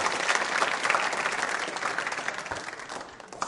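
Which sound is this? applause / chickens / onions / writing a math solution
applause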